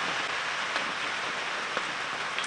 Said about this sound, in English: It seems like the rain is just slowing down a little bit, which is nice.